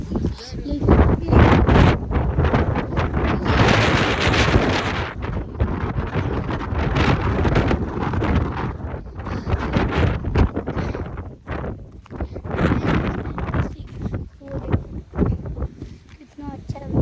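Strong mountain wind gusts hard against the microphone in a loud, rough, continuous roar that surges and eases, with people talking intermittently beneath it.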